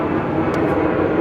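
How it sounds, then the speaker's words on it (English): An airplane drones steadily overhead above woodland, a broad continuous rumble that stays even throughout, with no talk. "Airplane."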